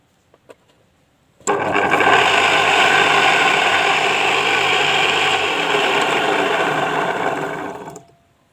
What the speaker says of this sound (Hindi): अब ये इस साइड घूमने लग गई है और इस मोटर का जो पंप है वो इस साइड चलेगा, यानी कि एंटी क्लॉकवाइज।